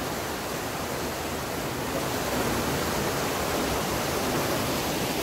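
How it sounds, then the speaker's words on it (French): Rushing water flows steadily beneath a small footbridge in the Savoie Alps, a loud, continuous broadband roar like a torrent, close by and unbroken, with no voices over it. "Là, on est sur un petit pont, c'est pour ça qu'on entend le bruit de l'eau."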